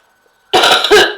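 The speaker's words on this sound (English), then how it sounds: "talking always brings what's left of my cough on" A woman gives a single harsh, loud cough close to the microphone, two rough bursts running together after a moment of quiet, while recovering from a lingering cough.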